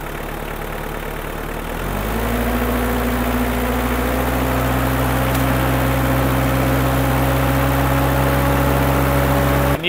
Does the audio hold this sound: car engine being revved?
yes